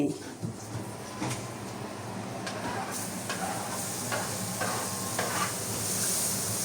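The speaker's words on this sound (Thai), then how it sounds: "หอมหัวใหญ่ผัดกับเนยก่อนเลยนะคะ" Onion sautéing in butter in a home kitchen while preparing a Christmas meal with potatoes: a steady low sizzle with scattered stirring scrapes and clicks, fairly faint and continuous throughout.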